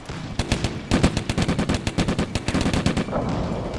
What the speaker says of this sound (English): But the mortar is now trying to target the tank for some reason. Yeah, it's shooting like madman.